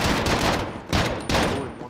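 Dense bursts of rapid gunfire in a first-person shooter match featuring an AUG rifle, loud and continuous with a couple of sharp resets, filling the whole stretch without speech.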